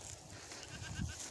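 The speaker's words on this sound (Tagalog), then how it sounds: "Mga kambing natin." Goats on a farm bleating during feeding time, a few short calls over a brief stretch with steady background noise and a louder bleat near the end.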